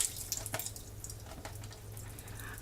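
Water poured steadily into a cooking pot on top of chicken broth for chicken and dumplings, a close, continuous splashing trickle with a faint low hum underneath.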